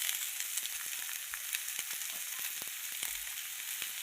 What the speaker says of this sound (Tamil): வானலை வச்சு எண்ணெய் ஊற்றி அதில் வெங்காயம், பூண்டு, தக்காளி எல்லாத்தையும் நல்லா வதக்கணும்